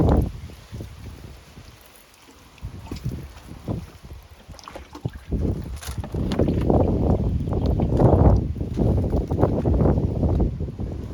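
Strong gusty wind buffeting the microphone in a UK garden in July, rumbling low and rising to a sustained roar in the second half.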